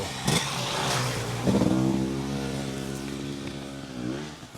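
A dirt bike engine passes on a forest trail near Mt Adams, a steady mid-pitched drone that rises and shifts as the machine goes by fairly close, fading slightly toward the end.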